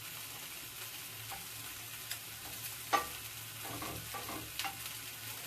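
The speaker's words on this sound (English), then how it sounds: "So I'm just going to listen until I hear all this start to saute." Food begins to sauté in a pan with a soft, low frying hiss, broken by a few faint clicks and scrapes, one sharper tap standing out, all quiet and without voices.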